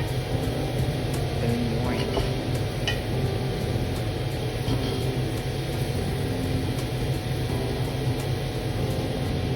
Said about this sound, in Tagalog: Tsaka halu-haluin para hindi masunog.